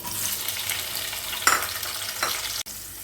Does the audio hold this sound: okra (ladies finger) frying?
yes